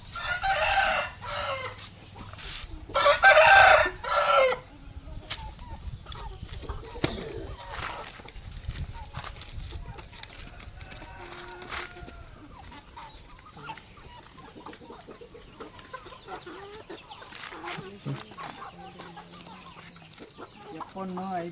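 Peruvidai roosters crow loudly several times at the start, followed by scattered clucking and fowl calls over a long stretch, with a dog sounding faintly and brief voices in the background.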